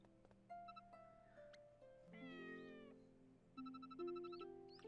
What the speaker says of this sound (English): That was a meow